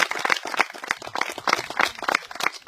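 Applause from a community gathering for two volunteers, dense overlapping claps with irregular peaks, moderately loud and fairly close, with no talk over it.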